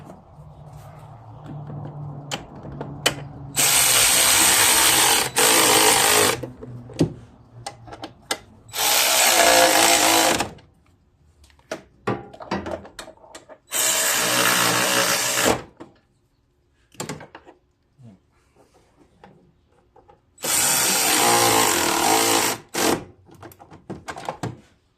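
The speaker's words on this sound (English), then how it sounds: "I put the oil cooler back on, putting the bolts on. I'm going to tighten them up now." A power tool tightens the oil cooler bolts on a John Deere Z445 zero-turn riding mower in four loud, close whirring bursts of a few seconds each, with clunks and rattles between them.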